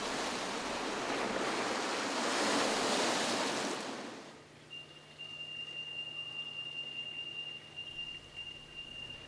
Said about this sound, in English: Large container ships plying the Elbe create bow and stern waves which impact on the moored